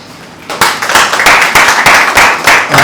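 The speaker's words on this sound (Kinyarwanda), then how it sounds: "Ni byiza cyane dufasha tukamuha amashyi." An audience at a gospel artist's press conference breaks into applause, a burst of dense, close clapping starting abruptly and continuing steadily.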